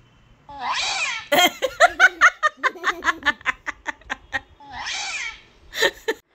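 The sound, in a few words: cat meowing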